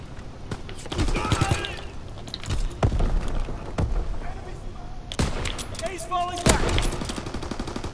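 Gunfire in the video game Call of Duty WWII comes in rapid bursts and scattered single shots, some near and sharp and others more distant, with voices talking over the shooting.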